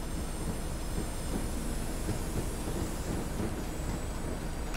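A train running on rails in Train Simulator on the West Highland Line, a steady loud rumble of wheels on track with faint high squeal and clatter, continuous throughout with no voices.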